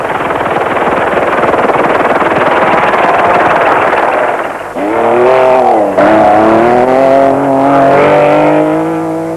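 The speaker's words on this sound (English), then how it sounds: "opposite lock, foot on the brake, car slides wide, underneath the police barrier" A rally car at the 1997 Dakar Rally slides wide under opposite lock with the brake on, engine roaring loud and close, then revving up and down in rising and falling pitch sweeps as it powers away.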